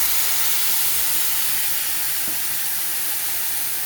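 Tamarind leaves hitting hot oil in a pan with fried onions, giving a loud, continuous hiss and sizzle that holds steady throughout with no talk.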